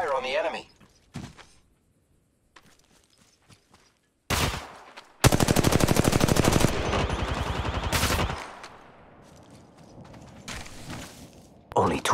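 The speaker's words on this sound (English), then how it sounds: "The enemies are shooting at me." Automatic weapon fire in the mobile video game Apex Legends Mobile: loud sustained bursts of rapid shots in the middle, with sparse single shots and short gaps around them.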